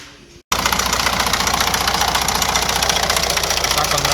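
A Citroen Berlingo's 1.6 HDI 16-valve DV6 diesel engine idles with a fast, even metallic knock under the valve cover, loud and close, starting abruptly after a brief quiet moment.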